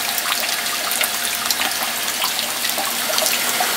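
Water runs steadily from an electric RIMS sparge heater at a little over a liter a minute, a continuous close splashing trickle with no speech over it.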